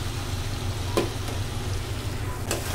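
Steady close sizzle of boiled water lily stems frying in coconut cooked down with spices, with a couple of brief stirring clinks and no talk.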